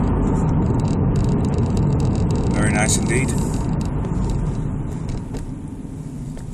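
A 2006 Vauxhall Astra SRi 2.0 Turbo with 170bhp cruises along an open A road, its engine and tyre roar a loud steady drone with a light rattle, under a man's speech that fades slightly at the end.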